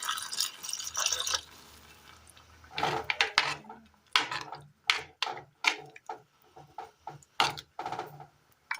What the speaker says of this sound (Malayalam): ഒരല്പം ചെറു ചൂടുവെള്ളം കൂടി ഒഴിച്ചു കൊടുക്കുകയാണ്